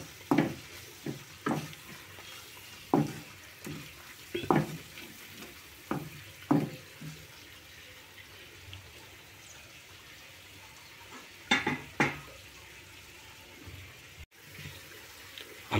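Chilli powder fries in an Andhra-style drumstick curry base while a spoon stirs, giving a low sizzle broken by repeated scraping strokes in irregular bursts.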